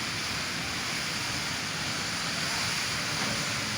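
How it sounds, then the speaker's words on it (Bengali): Strong wind and choppy river waves on the Buriganga River at Sadarghat, Dhaka, during a storm, heard as a dense, constant roar of wind noise and rushing water with no breaks. "যে পরিমাণ ঢেউ হইতেছে"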